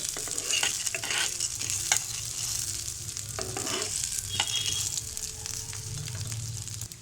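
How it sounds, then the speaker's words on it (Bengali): Corn kernels frying on high heat for sweet cinema-style popcorn give a loud, busy sizzle with stirring scrapes and crackles, close up and without speech. "হাই হিটে রেখে আমি ভুট্টাগুলোকে ভেজে নেব"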